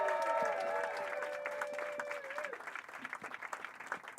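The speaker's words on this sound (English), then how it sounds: "Start clapping right now for Hatty Preston, everybody." Audience at a London comedy showcase bursts into loud, sustained applause with cheers and whistles, the clapping thinning into scattered claps by the end.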